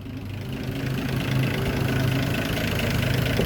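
A Land Rover Series 3 109 with the 2.6 engine idles after a tune-up, a steady low rumbling thrum with a slight rhythmic knock that swells a little in loudness early on, close and continuous without speech.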